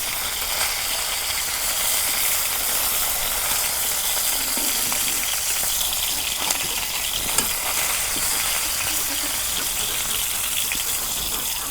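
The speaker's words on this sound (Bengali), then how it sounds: "এখন এক খোলা মাছ ভাজা হয়েছে" A large silver carp frying in hot oil in a village-style kitchen, a dense, steady hiss and sizzle heard up close with no talk.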